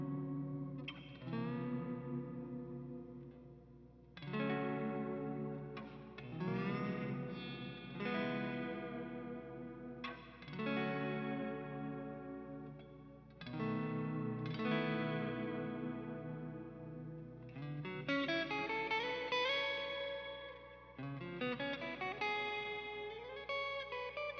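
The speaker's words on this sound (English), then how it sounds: "Maybe a little bit of overdrive, which it's not actual overdrive, I'm just using it to boost it." An electric guitar played through a clean, low-gain overdrive used as a boost plus a delay effect rings out in chords and melodic phrases, each note trailing off in echoes, clear and alone without any talk.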